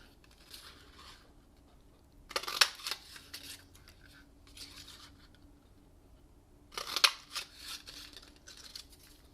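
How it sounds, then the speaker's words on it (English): A paper punch stamping hearts out of polka dot paper makes two sharp, crisp crunching clicks a few seconds apart, with softer rustling and handling noises between them. "we're just going to open up the punch, and I'm going to punch out 3 hearts"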